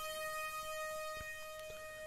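Sampled flutes stacked in octaves with an Ableton pitch MIDI effect, part of a hybrid trap production, hold steady sustained high tones throughout, alone, with no voices.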